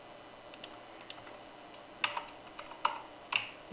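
Keys on a computer keyboard clack in short, irregular bursts of typing, close and fairly quiet over a faint room hiss, with no talking.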